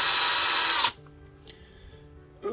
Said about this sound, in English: I'm going to drill a hole through my new mat